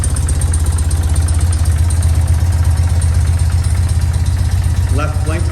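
A 1995 BMW R100GS Paris Dakar motorcycle idles steadily on a cold start with the choke off, a loud, even low throb running throughout, with a brief voice near the end.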